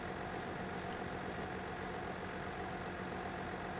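A Massey Ferguson tractor engine idles in Farming Simulator 2017, a steady, even low drone with no change in pitch from start to finish.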